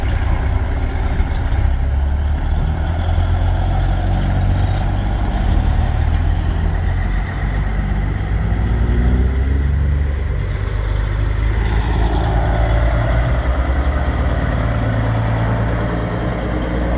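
A flat top 359 truck with a CAT 3406 diesel engine rumbles steadily at close range, a deep continuous idle with a slight rise in revs midway, leaving a truck show.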